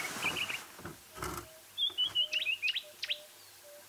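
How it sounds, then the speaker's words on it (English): A green-backed camaroptera, the green-backed bleating warbler, calls at dawn on an African safari, giving a run of quick, clear chirps and short rising notes, fairly near and alone, with no talk. "If I didn't know better, I'd say that was a green-backed bleating warbler."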